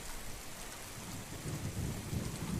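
Heavy summer rain pours steadily with low rolling thunder swelling toward the end, a dense storm effect for a radio play set in London at night, with no voices present.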